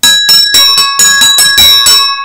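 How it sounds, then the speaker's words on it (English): Brazilian agogo bells played in a quick rhythmic pattern, about eight loud bright metallic strikes with ringing overtones, close and alone with no talking. "A go-go bells."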